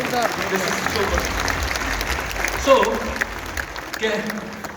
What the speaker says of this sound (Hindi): इस गट्स के लिए तालियां जरूर बजा दीजिए